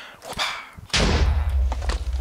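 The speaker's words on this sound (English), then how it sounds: "that's gonna be a crazy explosion" A Minecraft explosion tearing through a dirt-filled space hits abruptly as one loud, close blast, followed by a sustained low rumble and scattered crumbling debris.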